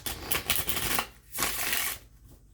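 Tarot cards being shuffled close up, two quick bursts of crisp riffling flutter separated by a brief pause, fairly quiet.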